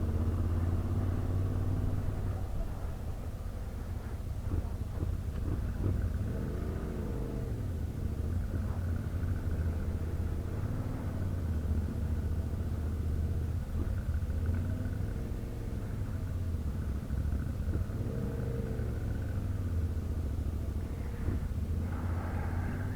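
Steady rumbling traffic at the crowded Kulakkaya plateau in Giresun on a Sunday, with car engines and motorcycle engines including a Yamaha Tenere 700, a continuous low drone with passing swells throughout.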